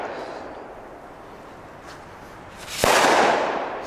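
Firecrackers go off outdoors on New Year's Eve with Belgian fireworks, a sharp loud bang near the end after a steady crackling hiss of distant explosions.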